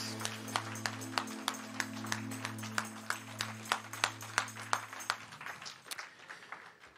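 A church congregation clapping during a worship service, a rhythmic burst of claps over sustained music that grows more ragged and uneven toward the end.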